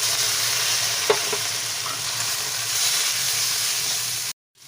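Ground cumin, turmeric, chilli and Kashmiri chilli powders fry in oil with a splash of spice-rinsing water. A dense, loud sizzle and hiss holds steady with a couple of faint clinks, then cuts off abruptly near the end.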